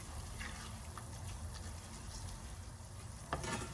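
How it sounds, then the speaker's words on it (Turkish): Spices frying with tomato paste in a pan make a soft, steady sizzle with light stirring scrapes and a brief clatter near the end, no voices. "Şimdi baharatlar ile birlikte de kavurmaya devam ediyorum ki aroması salçaya geçsin."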